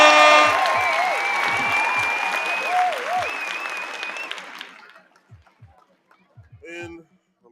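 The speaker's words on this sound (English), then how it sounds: "Let me give you all a round of applause in the DJ." Applause for a DJ during a live stream rises at the start with music and tones over it, thins out after about five seconds, and leaves a few scattered claps and noises.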